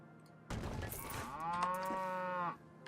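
A cow in the theme-park game Planet Coaster gives one long, drawn-out moo lasting about two seconds, close and clear, with no talk.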